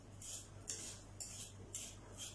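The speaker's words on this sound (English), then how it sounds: "and that crushes the garlic" Knife blade pressed and dragged over salted garlic on a chopping board, giving four short, quiet scraping strokes in a steady rhythm, close and alone.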